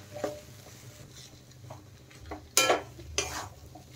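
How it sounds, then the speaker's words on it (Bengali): A spoon stirs a potato and banana flower filling for cutlets in a pan, soft sizzling beneath several distinct scrapes and two sharp metallic knocks against the pan near the end; no speech. "আলুটা মোচার সাথে কিন্তু ভালোভাবে নেড়ে চেড়ে মিশিয়ে নিতে হবে"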